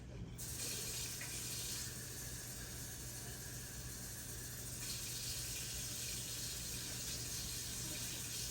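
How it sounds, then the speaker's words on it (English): Two cups of water are poured into a pan to make au jus, giving a steady, hissing, unbroken flow that stays soft and even from start to finish. "I'm going to add 2 cups of water."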